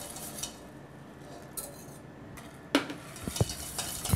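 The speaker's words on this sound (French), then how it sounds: "Je vais verser un peu de liquide chaud dans mon mélange jaune et sucre pour délayer." Hot milk and cream whisked into egg yolks and sugar in a bowl, a quiet kitchen scene with scattered light clinks and taps of utensil against the dish, growing busier toward the end.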